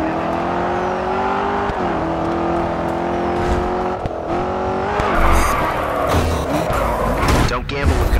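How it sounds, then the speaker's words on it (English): Car engine droning and shifting pitch as it drifts in the GRID 2 racing game, with tyre squeal and skidding growing rougher and louder toward the end; a voice talks over it. "hold each drift as long as you can."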